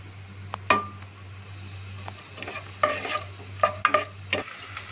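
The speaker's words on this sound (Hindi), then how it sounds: "प्याज जो है वो फ्राई हो रहा है" Onion frying in hot oil in a pan for chicken stuffed karela, a soft sizzle under a low steady hum, broken by several sharp clinks and scrapes of stirring.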